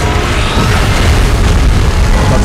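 A Godzilla beam blast in PUBG Mobile: a dense, loud, continuous roaring explosion with a rumbling low end, steady throughout with no pauses.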